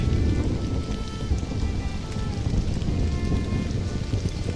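Steady rain falling in the survival game Stranded: Alien Dawn, a dense continuous patter with a low rumbling undertone, even and moderately loud throughout.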